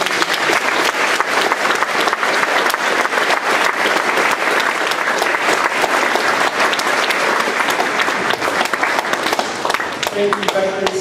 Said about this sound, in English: Can I get another round of applause for her?